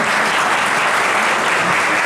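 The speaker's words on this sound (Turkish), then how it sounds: "Türkiye şampiyonu olan bu öğrencilerimiz için sizlerden bir alkış rica ediyorum." An audience at a ceremony honoring national champion students claps in sustained, dense applause, loud and even throughout with no speech on top.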